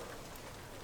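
Rain falls steadily on a sheltered mountain hut near Monte Silana, Pieve Tesino, as a soft, even patter without voices.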